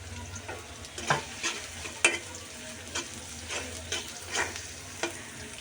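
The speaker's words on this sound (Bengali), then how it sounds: "পেঁয়াজ কুচিটা তিন চার মিনিট এভাবে বেজে নেবো ভালো করে" Chopped onions frying in oil with chopped garlic and green chillies, a steady crackling sizzle broken by repeated scraping stir strokes, close up with no talking.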